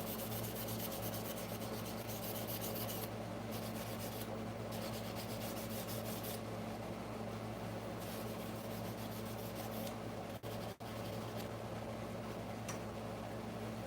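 Fine 1000 grit sandpaper rubbed over an etched steel punch, a steady close scratchy hiss of continuous back-and-forth strokes with a mechanical hum underneath, briefly interrupted near the end.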